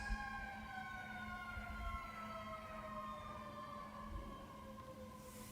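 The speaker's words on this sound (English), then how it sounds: "Every now and then when that goes off, I feel like we have to say a prayer, right? For where that fire engine is going." A fire engine siren wails faintly in the distance outside, its tones slowly falling as it passes, over a steady low rumble of room and traffic noise.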